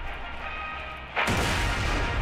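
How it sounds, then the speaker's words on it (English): In Borderlands: The Pre-Sequel, a single loud cannon blast booms suddenly after a moment of low ambient hum, its roar filling the rest of the clip. "The cannon!"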